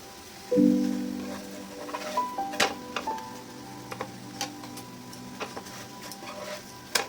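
Methi paratha, a fenugreek-leaf flatbread, frying on low flame in a pan, with a soft sizzle under a run of light ticking and tapping clicks from close by, with no voices heard.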